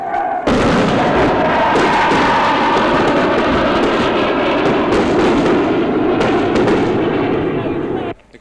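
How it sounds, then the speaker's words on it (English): Rockets are fired at an army colony on the south side of a town, making a loud, continuous roar of blasts and crackling bursts that lasts several seconds and then cuts off. "Firing rockets at what we assume is a new army colony on the south of the town."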